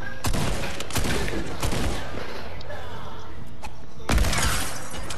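Sharp gunshots crack out in a video-game firefight, several loud close blasts spaced irregularly over a few seconds amid a dense, noisy background.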